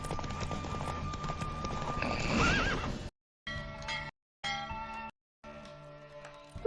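A horse gallops in a race in The Witcher 3 video game, rhythmic hoofbeats and a whinny under game music, the sound cutting out in brief silent gaps.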